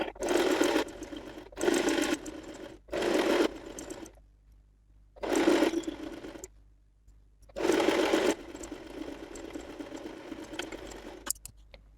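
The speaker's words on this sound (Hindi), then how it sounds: "उसी तरह से हम कमर को भी स्टिच लगा लेंगे पूरा" A sewing machine stitches the waist of a blouse in several short close runs of rapid, even mechanical chatter separated by pauses, one run longer than the rest, with no talking.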